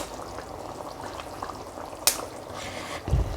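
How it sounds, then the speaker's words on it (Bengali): Sardine fish curry with lemon leaves boils in a pan, giving a steady bubbling simmer with soft liquid pops, a sharp clink partway through and a low thump at the end. "দিয়ে এবার খানিকক্ষণ ভালো করে ফুটিয়ে নেব"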